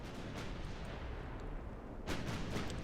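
Naval artillery in a heavy-cruiser battle in Ultimate Admiral Dreadnoughts, with 15-inch shells, heard as a steady low rumble of gunfire and a sharper burst of booms near the end, with no voices.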